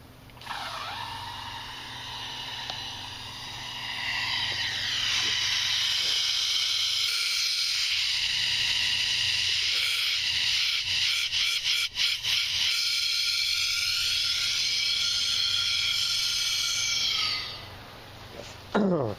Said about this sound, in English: I'm going to try to blow some of that oil out of the little short piece of 7/8 there